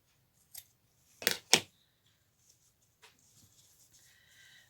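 Scissors snip through natural material a few times in quick succession at close range, crisp sharp cuts in a quiet room with faint handling afterward.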